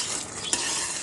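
Melted-sugar jelly chutney bubbles in a pan with a soft, dense hiss, and a spoon stirs it once with a faint click.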